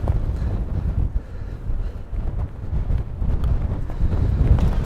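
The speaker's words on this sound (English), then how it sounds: "That wind is brutal." Strong wind on a coastal golf course at Fraserburgh, Scotland, a loud, steady low roar of gusting wind buffeting the microphone, with no talking.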